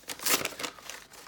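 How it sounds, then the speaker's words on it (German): Black wrapping paper on an Apple Watch band package is torn open, a short burst of crinkling and ripping with one louder tear near the start, close up. "Hier ist so schwarzes Papier, das man aufreißt."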